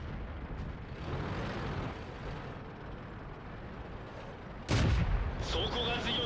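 Tank cannon fire in World of Tanks, with a Type 5 Chi-Ri in battle: rumbling engine and distant booms, then one loud, sharp close cannon blast followed by ringing debris and echo, with a voice talking over it.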